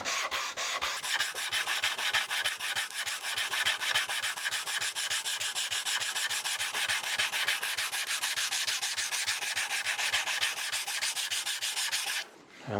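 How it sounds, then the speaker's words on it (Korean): Steady, rhythmic back-and-forth rasping of sandpaper rubbing on wood, close and continuous for several seconds before stopping. "그럼 그 부분을 또 사포를 해줍니다."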